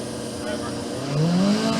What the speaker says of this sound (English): I think you can hear him revving his engine just in front of me.